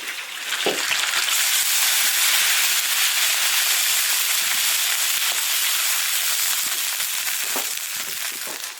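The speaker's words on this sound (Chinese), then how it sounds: "可以加水了" A loud burst of sizzling erupts as water hits a hot iron wok of fried fish bones, holding as a strong, steady hiss and crackle, with occasional light clanks, no voices.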